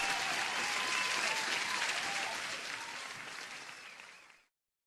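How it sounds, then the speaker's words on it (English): Sustained applause sound effect, a dense steady wash of clapping that holds evenly and then fades smoothly away to silence near the end. "Let me give you an applause here."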